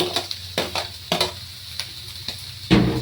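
Carrots and chayote go into a hot pan with pork for a Filipino vegetable sauté: a steady sizzle broken by several sharp scrapes and clatters of stirring, close and fairly loud, with no talking.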